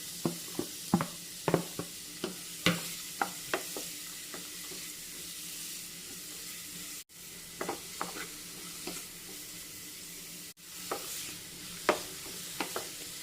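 Onions sautéing with curry leaves in a pan for aloo paratha, a soft continuous sizzle broken by repeated sharp scrapes and clicks of a spoon stirring, close up and without voices.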